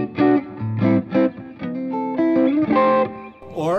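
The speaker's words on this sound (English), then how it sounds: "I can play it clean" An electric guitar through a Fuchs Plush tube amplifier plays a run of plucked notes and chords with a clean, slightly driven amplified tone, up close with a lingering ring.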